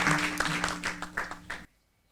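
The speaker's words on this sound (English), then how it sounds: "A big round of applause once again." Applause at the Multicultural Health Communication Awards 2023 for the award winners, a short burst of clapping over a sustained tone that tapers in uneven claps, then stops abruptly into near silence.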